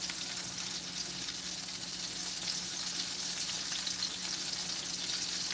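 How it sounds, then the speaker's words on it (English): Veal cutlets fry in a pan with a steady, dense sizzle that stays loud and even throughout, with no talking. "I am making veal cutlets."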